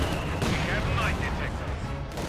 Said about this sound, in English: Mortar fire continues to fall.